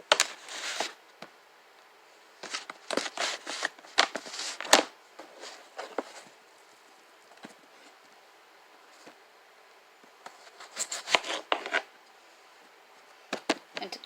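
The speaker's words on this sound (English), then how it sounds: "Now I'm going to cut my potatoes." Knife chopping peeled potatoes into cubes on a cutting board, irregular clusters of sharp close taps separated by quiet gaps, no talk.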